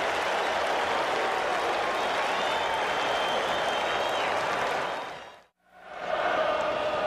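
Red Sox fans at a World Series game in Boston roar and applaud in a steady, dense stadium din that suddenly cuts out, then resumes just as loud.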